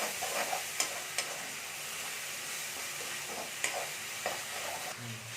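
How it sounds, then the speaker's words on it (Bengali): Spice paste sizzles steadily in hot oil for a cabbage and red lentil dish, a continuous close hiss broken by a few sharp clicks of stirring, with no voices. "এখানে আমি পেস্টটা দিয়ে দিলাম দিয়ে ভালো করে আমি তেলের সাথে ভালো করে ভেজে নেবো"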